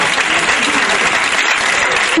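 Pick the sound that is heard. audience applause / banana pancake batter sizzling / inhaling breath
audience applause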